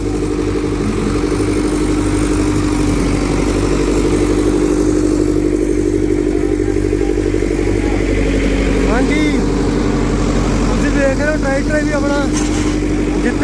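A small Sonalika tractor idles at a trolley-pulling contest on an open ground, its loud, steady engine rumble running throughout while people talk nearby.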